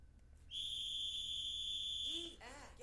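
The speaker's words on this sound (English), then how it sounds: "I'll blow the whistle as soon as you're hidden" A whistle in the video game Kulebra and the Souls of Limbo gives one sustained, shrill, steady blast lasting about a second and a half. Faint background sound sits beneath it, and brief chirpy sounds follow.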